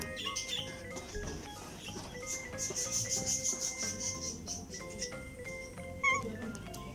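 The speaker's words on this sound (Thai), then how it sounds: "เสียงร้องจะไม่เหมือนแมวบ้าน เป็นแมวหรือเป็นอะไรผมไม่รู้เหมือนกันนะ น่าจะแมวแหละ" A wild cat at a resort in Hua Hin, Thailand gives a series of high, rapid, chirping calls, fairly faint against quiet background noise, with a few scattered squeaks.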